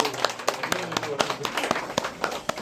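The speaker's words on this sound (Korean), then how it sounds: "박수 부탁드립니다." Scattered, uneven hand claps ring out from a small audience at a film guest-visit event, sparse and near, mixed with people talking.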